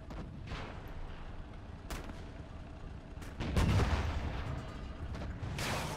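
A German flak battery firing in Gates of Hell, sharp, fairly distant booming shots at irregular intervals, with one heavier, sustained blast near the middle.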